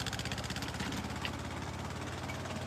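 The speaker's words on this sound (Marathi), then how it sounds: "चालू हुआ ट्रैक्टर चालू हो गया" An old village tractor engine runs at a steady, throbbing idle, loud and continuous throughout with no talking.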